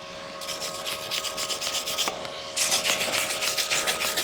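A mild steel wire brush scrubs a carbon steel pipe weld in a pipe repair joining dissimilar metals. The scrubbing strokes are steady, close and rasping, with a brief pause before the brushing returns louder. No one talks.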